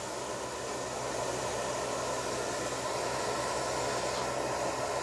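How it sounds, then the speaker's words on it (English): Steady, continuous rushing whoosh of a carpet cleaning subsurface tool running clean water, loud and unbroken throughout. "First thing I do is I run some clean water through."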